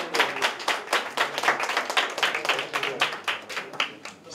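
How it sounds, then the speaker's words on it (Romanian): Guests at a party clap for the mother, a small group of hands beating quick and fairly loud nearby in an uneven patter for several seconds, with faint voices underneath. "Aplauze pentru mămica noastră!"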